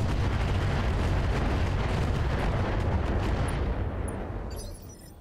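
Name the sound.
mech weapons firing in the video game Battletech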